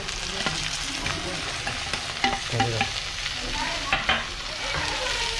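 Vegetables made from bamboo shoots and clams are frying with onions in a pan, a dense, steady sizzle with scattered stirring scrapes and clatters, close up with no talk.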